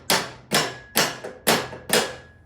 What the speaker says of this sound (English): I should be able to take a hammer and rat-a-tat-tat that out that way.